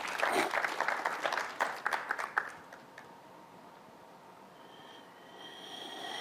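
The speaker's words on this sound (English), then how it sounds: "We appreciate that you applaud yourselves." A live audience claps and applauds in a burst of dense hand claps that fades out after a few seconds, leaving a quiet room with faint background murmur.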